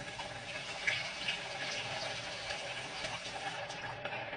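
Hot water runs from a kitchen sink tap onto peas, a continuous soft splashing gush at moderate distance with no talk over it.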